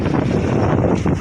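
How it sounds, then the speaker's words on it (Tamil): Strong wind blowing across the microphone outdoors on a pilgrimage walk to Velankanni near Nagapattinam, a loud, steady buffeting roar with no talk. "காத்தடிக்குது"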